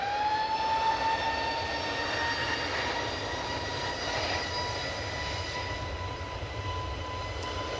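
An EasyJet airliner's jet engines drone steadily at Manchester Airport, a loud continuous roar with high whining tones, the plane a moderate distance away, no voices.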